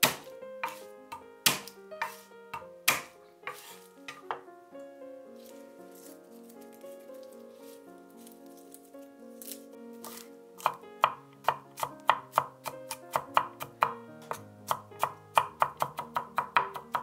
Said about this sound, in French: Je hache 4 gousses d'ail.